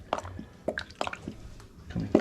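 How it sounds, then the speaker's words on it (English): Water moving through mouse house plumbing pipes, giving irregular soft drips, plops and squishy gurgles spaced a fraction of a second apart, close and fairly quiet. "You can actually hear the water."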